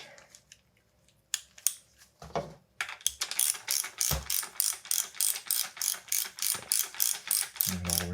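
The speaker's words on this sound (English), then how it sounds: "Take our ratchet." Ratchet clicking steadily as it tightens a bolt during a service of a 2020 Fox Factory 32 Stepcast FIT4 remote mountain bike fork; a few scattered taps first, then a fast, loud run of close ratcheting strokes.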